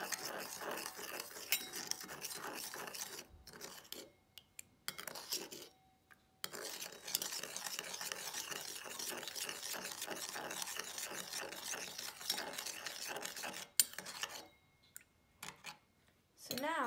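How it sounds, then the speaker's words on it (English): A spoon stirs salt into vinegar in a container, giving a steady run of light metallic clinks and scrapes with a few brief pauses. "Now I'm gonna stir so it dissolves."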